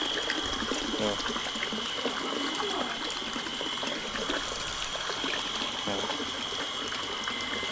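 Water streams steadily under pressure from the pipe of a home water motor pump during repair, a continuous close gushing trickle with no pauses.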